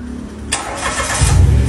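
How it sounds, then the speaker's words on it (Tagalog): A Mitsubishi Mirage G4 starts by remote push start, a sudden crank and catch halfway through, then settles into a steady, close, low engine rumble that swells slightly at the end. "So nag-start na yung makina."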